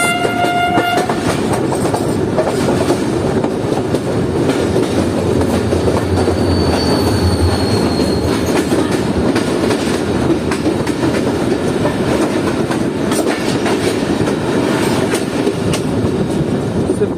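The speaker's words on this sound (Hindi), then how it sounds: "KCR की 2 डाउन ट्रेन हाबेजी औरंगी के दरमियान चल रहा है।" KCR 2 Down train running on the rails, a loud close rumble of wheels with rhythmic clickety-clack, a short horn-like tone near the start and a brief squeal partway through.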